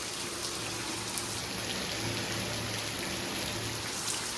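Sudden monsoon rain falls in a steady, dense hiss of drops on surfaces, unbroken and fairly close, with no talking over it.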